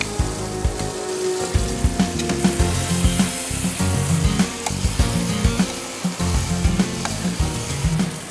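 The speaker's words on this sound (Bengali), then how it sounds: "আমাদের আগে থেকেই শ্যালো ফ্রাই করে রাখা যে চিকেনটা ছিল, চিকেনটা আমরা গ্রেভির সাথে অ্যাড করে দেবো" Pieces of shallow-fried chicken go into a pan of simmering gravy, giving a loud, continuous sizzle with bubbling and the scrape and knock of stirring throughout.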